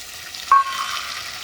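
Chopped onions and tomatoes drop into hot oil for batata pauva, giving a brief bright hiss that settles into a soft, steady close-up frying sizzle.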